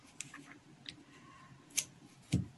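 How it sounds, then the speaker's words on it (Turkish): Scissors snip through knitting yarn during a two-needle bootie project, a few faint, brief clicks and one soft cut, close by in a quiet room. "Şimdi ipimi uzunca bırakarak kesiyorum."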